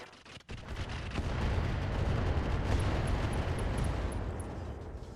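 Heavy mech weapons fire in the RogueTech battle game: a sharp crack opens a dense, sustained rumbling barrage of booming impacts that rolls on loudly for several seconds before easing slightly, with no voices.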